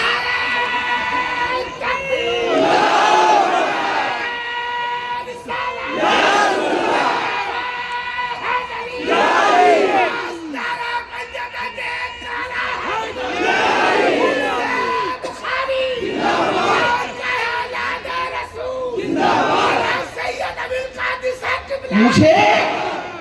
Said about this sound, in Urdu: نعرہ لگے تو یہاں سے وہاں تک ایسے جواب دو جیسے علی کے غلام جواب دیتے ہیں